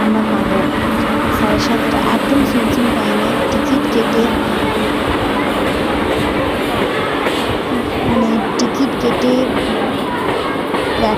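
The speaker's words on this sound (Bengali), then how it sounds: "এই হচ্ছে বাঁকুড়া স্টেশন তো ট্রেন তো ঢুকছে" A train pulls into Bankura station with a continuous heavy rumble and rhythmic wheel clatter, loud and close, while voices murmur faintly beneath it.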